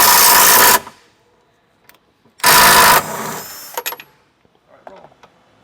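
Power tool bursts while removing the three bolts holding the OEM spare tire hinge on a Jeep Wrangler: two loud, sustained whirring runs, each under a second long, with faint clicks and clatter in between.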